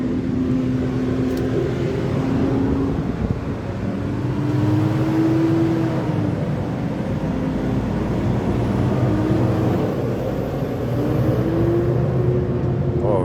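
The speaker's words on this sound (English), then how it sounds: "That's my mechanic bringing one of our trucks in." Company truck pulling in, driven by a mechanic, heard as a steady low engine rumble with a faint wavering tone, continuous and fairly close throughout.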